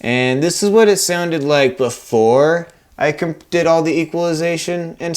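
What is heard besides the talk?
No everyday noises stand out.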